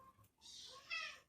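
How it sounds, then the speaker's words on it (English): A house cat meows indoors, a short bright cry rising and holding for about a second, close and fairly loud, with faint room noise around it. "Excuse my cat."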